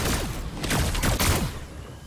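In a video game, a pulse rifle fires a quick burst of several rapid electronic-sounding shots over about two seconds, loud and close, with no speech.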